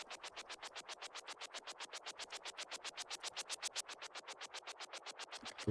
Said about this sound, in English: Oh, and I also have white noise that sounds like this.